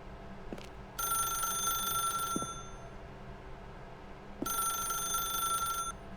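A telephone in The Stanley Parable video game rings in two long electronic bursts separated by a short pause, loud and close over a low ambient hum.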